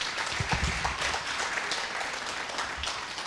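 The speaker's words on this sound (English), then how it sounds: "So please, let's give our presenter a true round of applause." An audience gives a presenter a round of applause at a conference, a dense wash of clapping throughout with some low thumps near the start.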